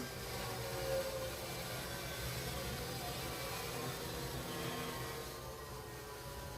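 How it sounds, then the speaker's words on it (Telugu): A steady, loud mechanical drone with broadband noise runs throughout, like construction machinery operating close by, with no clear pauses. "పక్కన కన్స్ట్రక్షన్ జరుగుతుంది,"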